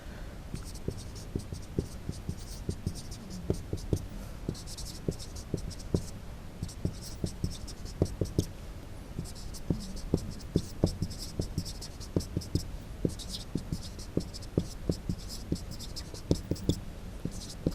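A pen or chalk writes areas of six faces on a board in a maths lesson, producing quick tapping and scratching strokes under a steady insect-like background hum.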